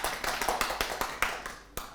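Quick bursts of hand clapping in a game show studio, eight or nine sharp claps close by in an uneven rhythm, with no voices.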